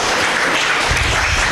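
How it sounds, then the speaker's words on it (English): A burst of applause from a tech-talk audience for a speaker, broad and loud with a thickening rumble toward the end, no clear talk above it. "Everyone give a round of applause to Rebecca,"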